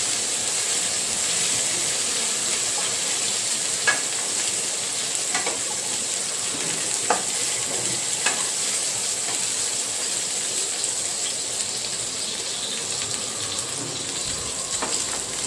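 Chili-coated brinjal (eggplant) pieces frying in a pan over low heat give a steady, soft sizzle throughout, with a few faint scattered pops and clicks and no voices.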